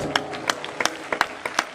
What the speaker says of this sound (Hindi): तारीफ करो सब जन, और एक बार फिर से तालियों के साथ